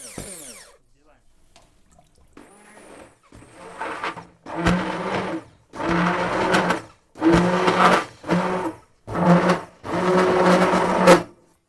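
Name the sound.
blender blending broccoli cream soup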